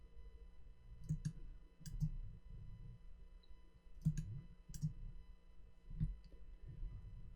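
A computer mouse clicks in small crisp pairs and singles, spaced a second or so apart, quiet and close against a low hum.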